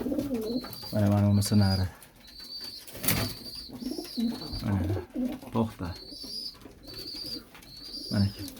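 A domestic pigeon coos in low, rolling bursts and briefly flaps its wings nearby, while someone talks over and between the calls.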